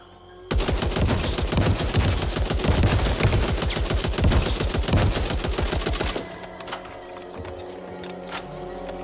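Rapid automatic bursts from an RPK machine gun in the zombie shooter Back 4 Blood, a loud sustained stream of shots for about six seconds that cuts off into quieter game ambience.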